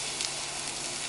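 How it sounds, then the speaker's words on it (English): Sourdough bread toasting on a hot griddle gives a steady, close sizzle and crackle that holds evenly through the short stretch, with no talking. "we're going to toast all of our little sourdoughs right on top of this griddle"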